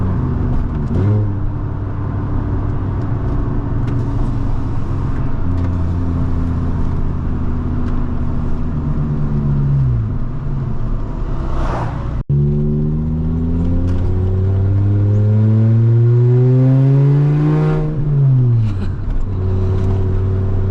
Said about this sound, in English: it's a straight pipe that comes out just short of where the muffler would be